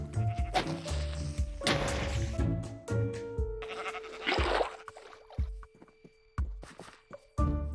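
Sheep bleat several times amid Minecraft game clatter, thuds and footsteps, with a sustained tone running underneath.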